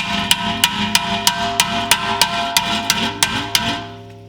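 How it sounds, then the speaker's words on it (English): A hammer bangs down a car's brake dust shield with about a dozen sharp metallic strikes at an even, quick rhythm, loud and close, each ringing briefly before the next. "grab a hammer and just bang this down a little bit"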